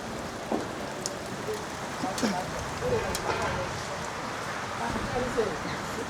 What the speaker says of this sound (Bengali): এই বৃষ্টির মধ্যে, এই ওয়েদারের মধ্যে